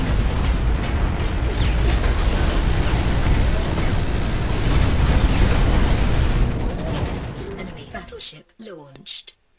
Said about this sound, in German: Aber ich habe noch mal eine EMP-Bombe geschossen.